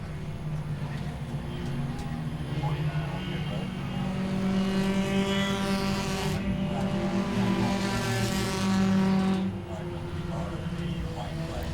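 Enduro race cars lap Langley Speedway, engines droning in a rising and falling whine as the pack passes close, loudest midway, while a commentator talks over the noise.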